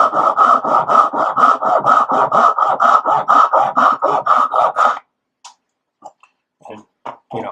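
Hand saw cutting wood for dovetail joints, steady back-and-forth rasping strokes in a quick even rhythm for about five seconds, close and loud, then a few faint scattered knocks and handling sounds.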